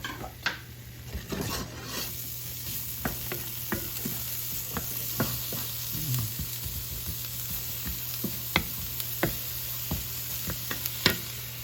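Chopped onion for beef stroganoff hitting a pan and frying, a constant soft sizzle with scattered utensil clicks and stirring taps, close by and without speech.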